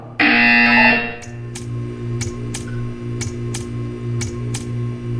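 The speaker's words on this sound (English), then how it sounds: "You will hear a buzzer." A loud electronic buzzer from Portal 2 blares for about a second, followed by a steady low hum with sharp clicks ticking at regular intervals.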